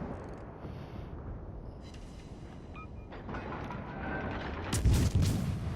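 Naval guns fire AP rounds from the Japanese tier 2 cruiser Katori in World of Warships. Low rumbling booms roll over a steady ship drone, building to a heavy, loud volley near the end, with no speech.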